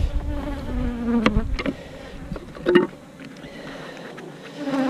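Honey bees buzz around an open hive box during maintenance, a steady close drone with individual bees swooping past the ear in louder passes.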